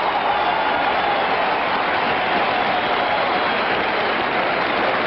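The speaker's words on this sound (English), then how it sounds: "Listen to the crowd." A huge crowd at the 1973 Belmont Stakes horse race roars continuously, a dense, unbroken wall of cheering and applause held at a steady level throughout.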